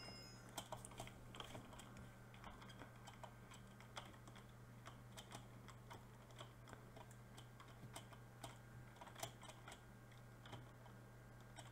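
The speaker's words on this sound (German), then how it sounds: "Ich hoffe, man hört meine Tastatur nicht zu doll." Quiet, steady tapping on a computer keyboard during a Minecraft gaming session, continuous irregular clicks of keys close to the microphone with no talking.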